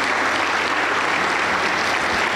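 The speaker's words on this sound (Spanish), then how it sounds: "Aplauso para el Señor Jesús" A church congregation at a Pentecostal service in Junín, Peru, applauds in a thick, continuous roar of many clapping hands, loud and close, with no voices standing out.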